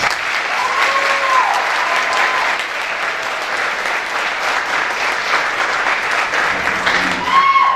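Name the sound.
applause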